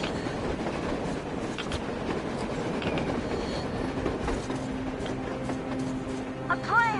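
A train rumbles steadily along its rails in Metro Exodus, with a continuous low roar, faint clickety-clack and a thin wheel squeal, heard close and loud under occasional voices.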